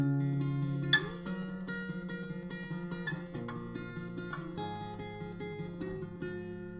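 Acoustic guitar picks the verse of a song, a steady stream of plucked notes and shifting chord shapes played softly and up close, alone without voice.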